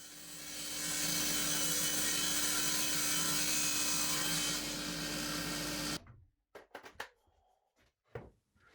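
A loud power saw rips steadily down the length of a 24-centimetre-wide oak board for several seconds, then stops, followed by scattered knocks and handling sounds.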